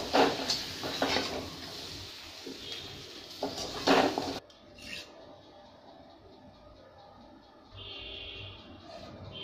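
Browned onion scooped from a pan onto a plate, a few close scraping and clinking strokes of a spoon on metal, then quieter handling.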